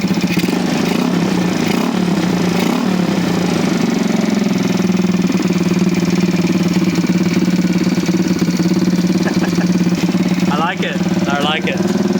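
A Honda Gyro X scooter engine runs steadily in a low, even drone that holds for the whole stretch, with a person talking over it near the end.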